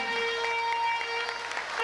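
Brief, steady applause from an audience at a social hall celebration, a soft continuous patter of clapping beneath a sustained musical tone.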